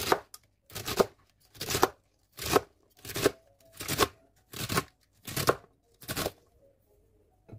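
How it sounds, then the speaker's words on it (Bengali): Vegetables for a curry, including spring onion, carrot, bottle gourd peel and potato, are chopped with a knife in a home kitchen, about nine crisp, evenly spaced cuts heard up close with nothing else over them. "সকালের নাস্তা শেষ করে এখন হচ্ছে আমি দুপুরে রান্নার জন্য তরকারি কেটে নিব"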